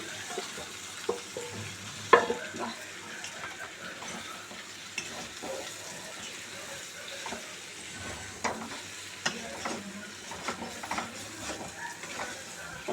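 Chicken frying in a pan as it is stirred, giving a low continuous sizzle broken by scattered scrapes and taps of a spoon, close but quiet and heard without any talking.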